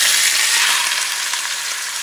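A chuck roast sears in hot oil for a pot roast, producing a loud, close, continuous hiss and crackle that runs unbroken and without talk.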